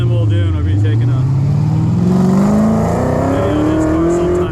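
A 1969 Pontiac Firebird resto-mod with an LS engine swap, big brakes and large tires tears through an autocross course, its engine rising and falling loud and close as it accelerates, with a voice talking over it.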